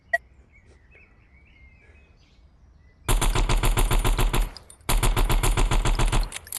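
Rapid automatic gunfire from guns in the Gorilla Tag VR video game, two loud sustained bursts of fast repeated shots separated by a brief pause, following a quiet stretch with faint chirps.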